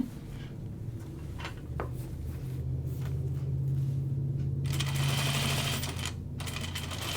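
A sewing machine stitches lightweight fabric with a steady, fairly quiet mechanical whir, running continuously for several seconds between a few soft handling clicks.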